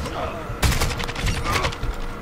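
Gunfire in Call of Duty MW2 from an AK-47, a sudden burst of rapid shots breaking in partway through and rattling on with a few pauses, under some talk.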